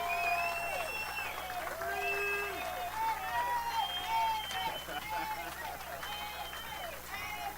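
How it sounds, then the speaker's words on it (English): An audience at a political event applauds Illinois State Representative Avery Bourne with steady sustained clapping, a dense even wash of hands lasting the whole stretch, with some crowd murmur beneath. "Let's give her a round of applause."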